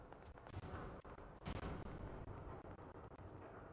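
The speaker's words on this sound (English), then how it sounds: "Do I hear gunfire, or is that the game having an aneurysm?" Gunfire in the video game Fallout 4, heavy booming shots and rumbling blasts layered over a dense, noisy battle din, with a few sharper reports standing out, fairly faint and distant overall.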